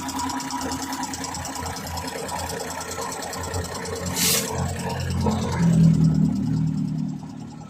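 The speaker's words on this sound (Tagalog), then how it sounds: "Pakinggan niya yung makina, ang tining ng andar." A freshly top-overhauled Suzuki F6A 12-valve Multicab mini truck engine idles steadily nearby with an even, ticking rumble, and a brief hiss partway through before the tone deepens slightly.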